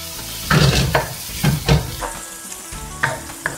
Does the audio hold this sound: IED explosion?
no